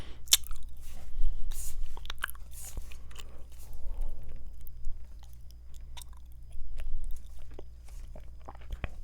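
Soft, close gum chewing with wet smacking and crunchy bites, set against a steady low hum and occasional whispering during a baseball card box opening.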